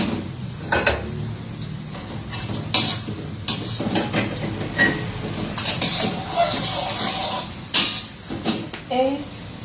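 Sausage fried rice is stir-fried in a pan, with scraping and clanking of a utensil against metal over a soft sizzle, while a person talks.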